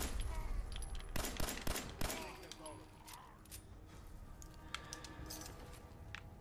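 Rapid bursts of pistolet shotgun-pistol fire in Fallout 4, several sharp close shots clustered in the first two seconds, then quieter scattered pops under a game soundscape with a voice talking.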